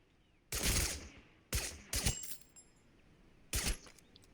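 Suppressed VSS rifle fire in the battle game TABG: three sharp shots, one alone, then a quick pair, and a last shot after a pause, crisp and close.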